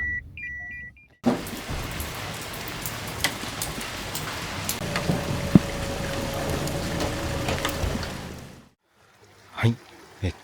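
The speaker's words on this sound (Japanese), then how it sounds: "雨も強くなってきましたんで" Heavy rain pouring down outside a ryokan at Shirahone Onsen in Nagano, a dense, continuous hiss that starts abruptly and runs for about seven seconds before cutting off.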